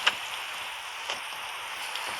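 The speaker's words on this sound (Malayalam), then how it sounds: "നല്ല ഇടി പറ്റി മഴ പെയ്യുന്നുണ്ട് ഗൈസ്" Heavy rain with thunder falling steadily outside a car shop, a soft, even hiss with a few faint drop ticks and no voices.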